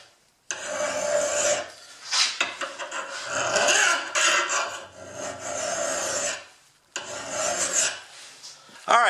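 A Troy-Bilt tomahawk blade held in a vise is sharpened by pushing a file along its existing bevel, giving long, close, harsh rasping strokes with brief pauses between them.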